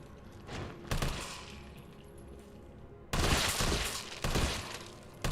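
Sustained assault rifle fire from Carlos in Resident Evil 3 Remake comes in two dense bursts of rapid shots, loud and close, separated by a quieter stretch.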